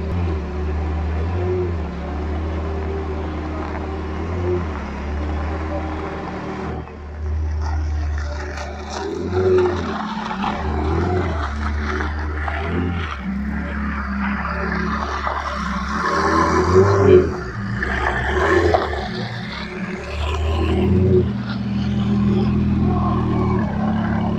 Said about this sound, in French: Bon, allez, les Ferrari s'en vont.